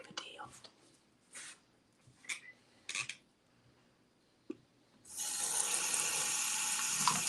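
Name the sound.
tap water running to rinse off overflow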